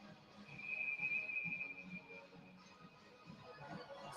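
A referee's whistle at a lacrosse game blows in one steady, fairly faint tone over the murmur of a crowd and distant commentary.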